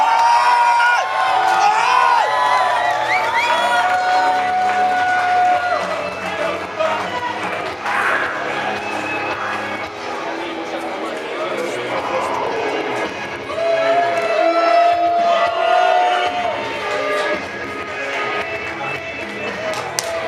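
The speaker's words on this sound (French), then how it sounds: "On peut applaudir le match." Crowd at a wrestling show cheering and clapping after a match, a continuous loud roar with whoops, while an announcer talks over it.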